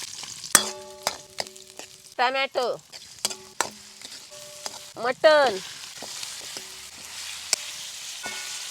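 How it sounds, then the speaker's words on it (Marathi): Mutton sizzles steadily in hot oil with onions in a pan on a wood-fired stove while a spatula clanks against the pan, with two brief bits of speech over the frying. "तेल कांद्यामध्ये मटण चांगलं परतून घ्यायचं"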